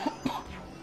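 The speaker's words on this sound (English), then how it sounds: "I have to cough so bad." Someone coughs twice in quick succession, with a harsh throat-clearing quality, over low background hum and no speech.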